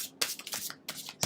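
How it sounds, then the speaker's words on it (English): Oversized Everyday Enchantment tarot cards being shuffled by hand in a few quick riffling bursts, the papery swishes and flutters close and fairly soft, with no voices. "I'm shuffling a little bit differently because these cards are huge"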